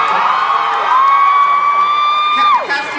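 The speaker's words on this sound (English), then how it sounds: "I think they're screaming" A large Comic-Con convention hall crowd in San Diego screaming and cheering: a loud, sustained wall of shrieks for about three seconds with one high voice rising above the rest, then tapering off.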